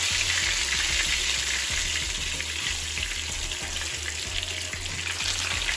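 Hilsa fish pieces fry in masala in a pan with a continuous, close crackling sizzle, accompanied by a low steady hum and faint rhythmic ticking beneath.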